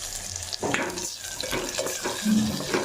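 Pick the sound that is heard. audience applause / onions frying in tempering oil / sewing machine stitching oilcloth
onions frying in tempering oil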